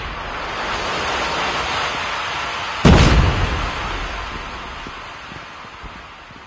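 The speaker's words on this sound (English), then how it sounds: "Grenade out!" A grenade explodes in the mobile shooter Call of Duty Mobile: one sudden, loud blast with a rumbling tail that slowly fades, over a steady wash of background game noise.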